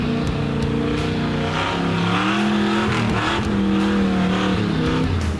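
A Jeep crawls up a muddy off-road trail at Windrock, its engine droning loud and close with shifting revs as it climbs steadily, no voices over it.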